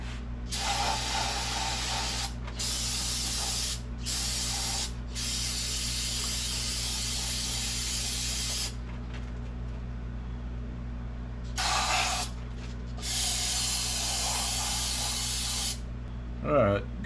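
Aerosol brake cleaner sprays onto engine parts of a Kia during oil leak repair work in long, loud hissing bursts with brief gaps between them, against a steady low background hum.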